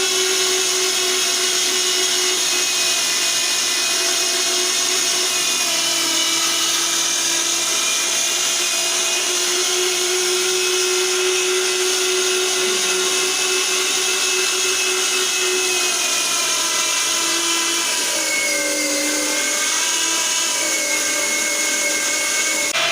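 A grinder minces meat into keema for chapli kabab, a steady loud whirring motor drone running continuously with a slight pitch drop near the end as the load changes.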